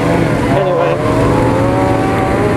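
A drift car roars past during a Formula D Pro-Am drifting competition at Willow Springs, its engine and tires producing a loud, rising howl for a couple of seconds.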